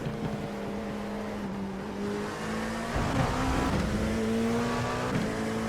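An LMP2 prototype race car engine in iRacing drones loudly at Road Atlanta, its pitch climbing then dropping sharply with an early upshift before rising again, heard alone without talk.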